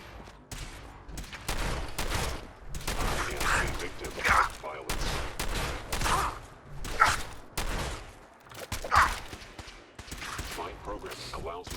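Shotgun blasts from Fallout 4 gameplay ring out in a rapid string of loud shots, mixed with game sounds and a voice talking throughout.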